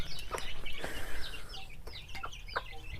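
Young Bhimavaram chicks chirping and peeping close by, a busy cluster of short high calls with a few louder cheeps over a low background rustle, no talking.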